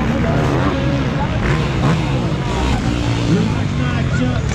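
Quad bike engines at a night race in France, a constant loud droning roar of several motors close by, with voices and crowd babble mixed in throughout.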